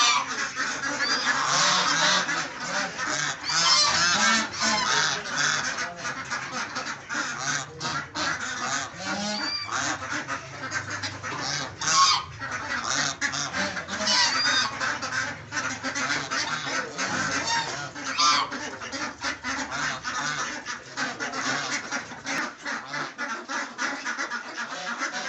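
Ducklings and geese calling on a duck farm: a dense, continuous chorus of quacking, honking and peeping from many birds close by, loud throughout.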